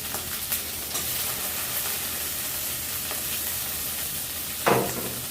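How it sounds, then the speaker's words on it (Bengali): Chopped capsicum fries in a hot pan while cooking chicken biryani, making a continuous crackling sizzle with occasional stirring scrapes and one sharper clatter near the end. "ক্যাপসিকাম কুচানোটা দেওয়ার পর খানিকক্ষণ নাড়াচাড়া করে নেব"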